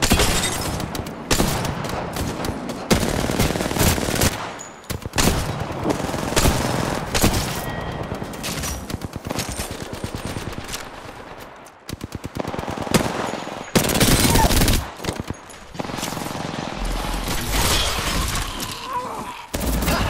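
Submachine guns fire in Apex Legends in loud, rapid bursts of automatic gunfire that repeat with short breaks, mixed with sharp impacts and shattering.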